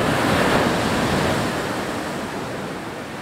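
Waves wash up Butterfly Beach in Goa in a continuous broad rush of surf, loud and close, slowly easing off toward the end, with no voices.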